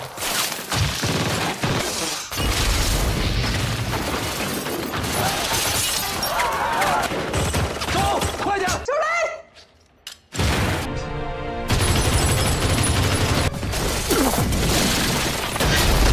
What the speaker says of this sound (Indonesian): Sebuah bom mobil meledak mewarnai kebrutalan operasi penyelamatan tersebut.